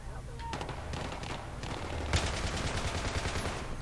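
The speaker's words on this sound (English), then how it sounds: "He started shooting at me and I tried to lay down" Gunfire on the Seine Crossing map in Battlefield 3 Conquest, with rifle and M240B fire cracking in rapid, overlapping bursts at close to middle distance, growing denser toward the end, and a voice talking over it.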